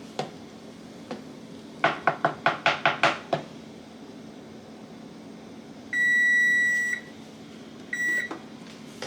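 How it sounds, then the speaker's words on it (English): A run of quick clicks gives way to a long electronic beep from a kitchen timer, then a shorter beep a moment later, clear and nearby. "the timer's going to go off any minute now"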